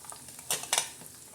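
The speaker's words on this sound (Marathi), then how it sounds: "आता आपण त्याच्यामध्ये कांदा टाकणार आहोत" Chopped onion dropped into a hot cumin and garlic tempering for dal kanda gives a faint oily sizzle, with two brief bursts of spattering and a light utensil clink, no voices.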